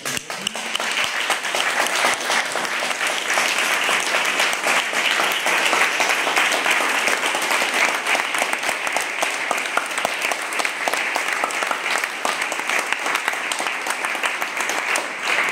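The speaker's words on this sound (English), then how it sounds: "Please give a warm round of applause." Sustained, loud audience applause after a talk at a political conference, dense and even clapping that continues unbroken for a long stretch.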